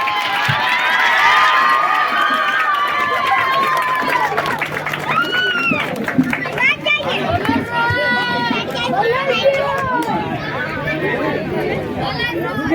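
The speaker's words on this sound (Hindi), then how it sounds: "अपनी जगह से खड़े होकर ताली बजाएं" An audience at an Independence Day event in Banpur, India, standing and clapping, with sustained applause, cheering and crowd chatter throughout, while a voice speaks and calls out over the noise.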